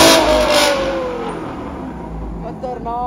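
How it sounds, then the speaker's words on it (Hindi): Inside a parking garage, a car's exhaust roars loudly in one strong rev that echoes off the walls and then gradually fades, with people talking over the tail end. "अब इसकी गाड़ी का एग्जॉस्ट सुनेंगे"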